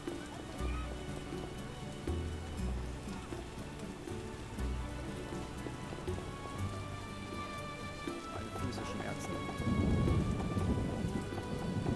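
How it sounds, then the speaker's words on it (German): Heavy rain pours steadily with low rumbling thunder beneath in The Witcher 1: Enhanced Edition, the downpour swelling louder near the end. "Es gießt wie aus Eimern."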